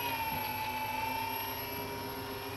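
A twin-engine Flying Pizza Box RC aircraft flies, its motors giving a continuous thin buzzing whine with steady tones, moderately faint and without voices.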